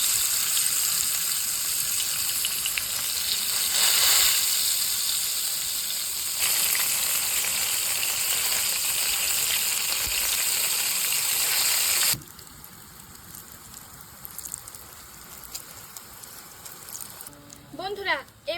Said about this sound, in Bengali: বন্ধুরা তেল গরম হয়ে গেছে, এখন গরম তেলের উপরে আস্ত বেগুনটা ছেড়ে দেব।